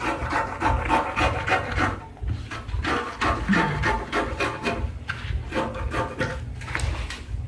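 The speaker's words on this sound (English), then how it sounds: "And then I'll cut it out like this." Scissors cut fabric for a summer dress with a close run of repeated crunchy snips and rubbing strokes in an irregular rhythm, with a short pause partway through.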